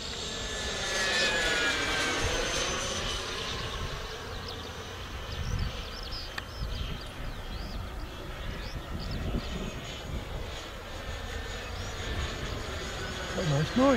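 A model Fouga Magister jet flies under blue sky with a steady whining turbine roar that swells and fades slightly as it passes and circles, heard from the ground at a moderate distance.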